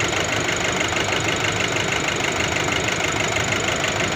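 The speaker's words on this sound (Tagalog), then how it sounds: "Pero maalog yung kanyang makina" A Nissan Navara DDTi diesel engine idles roughly and shakes, a constant close-up clattering, knocking drone that holds steady throughout.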